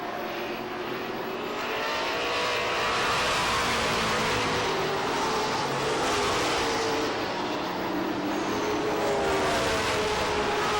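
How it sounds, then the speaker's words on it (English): A field of Pro Stock race cars thunders down the front stretch at Lee USA Speedway after coming out of turn four, a steady, dense roar of several engines that swells slightly and holds without a break. "5 Pro Stocks freight training out of the 4th turn and down the front stretch"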